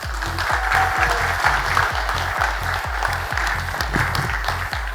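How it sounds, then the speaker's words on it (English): Steady applause from a large conference audience for about five seconds, with a regular deep thumping beat running underneath. "can I hear a big round of applause?"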